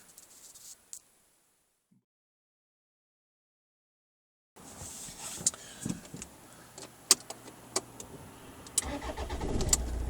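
An MG ZT CDTI 135 diesel car engine cranks and catches, then idles with a low rumble after a short silence; small clicks and knocks sound nearby.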